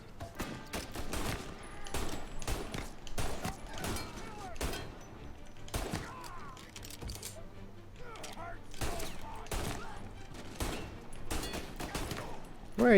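Gunfire in Mafia: Definitive Edition crackles in sharp bursts, with dense volleys of shots and short gaps between them, loud and punchy throughout, with a voice now and then in between.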